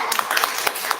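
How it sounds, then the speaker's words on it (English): Small audience clapping, a brief burst of scattered individual claps with distinct hand strikes audible. "let's give a round of applause for Carmen."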